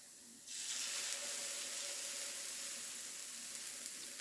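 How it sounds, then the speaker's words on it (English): Beaten egg hits a hash brown in a hot pan and bursts into loud, steady sizzling that continues evenly after a quiet start. "So we're just going to pour the egg on here."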